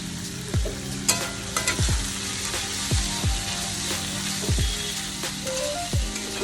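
Ivy gourd and potato pieces sizzle and crackle in hot oil in a pan, with a spatula scraping and stirring at a steady rhythm roughly every second, close and clear.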